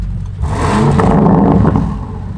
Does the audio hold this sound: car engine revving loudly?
yes